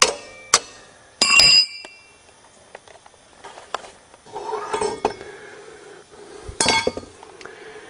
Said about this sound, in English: pry off the sprocket hub,